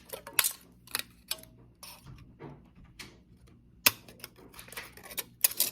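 Plastic garden labels being cut in half, a series of sharp snipping clicks at irregular intervals with quieter handling rustles between them, close and fairly crisp.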